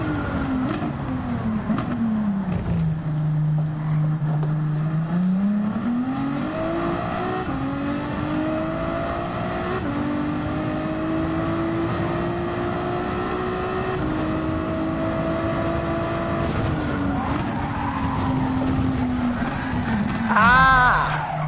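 A race car in Gran Turismo 7 drives a lap, its engine droning loudly and shifting pitch through gear changes as it brakes and accelerates around corners, with a faint tire squeal near the end.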